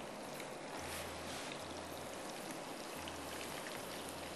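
Crushed garlic and dried red chillies fry in a pan with a steady, dense sizzle that stays even and moderately quiet throughout, and no one speaks.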